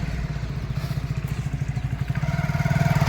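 Motorcycle engine running near a farm field, a steady low throbbing putter that grows slightly louder and more pulsing toward the end, with no talk over it.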